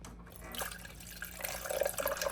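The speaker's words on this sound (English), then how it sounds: "as I pour the juice out, you can see how pure the color is" Freshly pressed ginger juice pours from the container of a Canoly JE24 cold press juicer, a soft trickling liquid stream that grows into brighter splashy pouring, close and alone.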